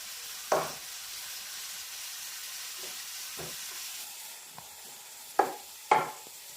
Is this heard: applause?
no